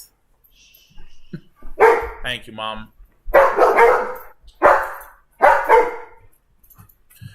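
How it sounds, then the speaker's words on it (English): Two pet dogs bark loudly indoors in four sharp bursts spaced about a second apart, with a person speaking briefly between them. "apologize about the barking loud dogs"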